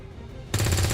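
Automatic weapon fire in the XCOM 2 strategy game bursts in abruptly halfway through and keeps going as a loud, dense, rattling volley, with no talking over it.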